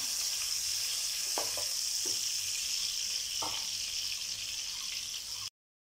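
Onions frying in a pan for a mutton curry, a steady broad sizzle throughout with a few soft stirring clicks near the middle, close and even, no voices.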